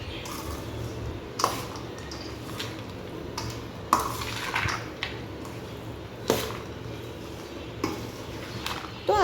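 Cooled oil being stirred into chana methi pickle in a pot: a spoon scrapes and knocks against the metal now and then over a low, soft mixing rustle.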